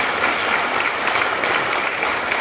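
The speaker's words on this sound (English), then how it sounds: "A big round of applause." Dense, even applause from an audience at the National Healthy Housing Awards 2023 ceremony, a loud continuous roar of many hands clapping with no gaps.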